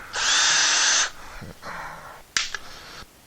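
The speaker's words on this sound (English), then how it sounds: "let's screw in to where I know there's a stud right about there" A power drill drives a screw into a wall stud while a pegboard tool shelf is mounted, one sustained high whine of about a second, then quieter bursts and a sharp click near the end.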